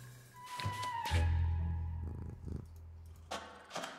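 A cartoon cat in the video game Tsioque purrs up close, a low rumbling purr that swells and fades in short breaths over soft game music, with a brief meow-like squeak near the start.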